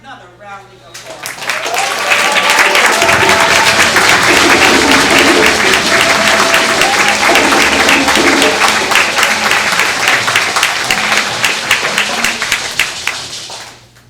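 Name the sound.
audience applause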